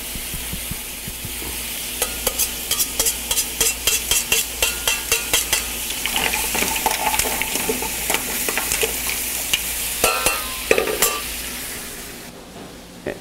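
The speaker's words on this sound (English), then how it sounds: "Now I'm going to add my sauteed garlic" Sautéed garlic frying in a pan of bouillabaisse base with lobster, a steady close sizzle broken by a run of sharp, regular spoon-on-pan stirring clicks, ending in a brief lull.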